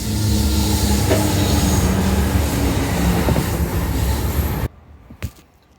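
A train rumbles past loudly and close, with a dense rolling roar and wheel clatter that cuts off abruptly near the end, leaving near-quiet with a couple of faint knocks.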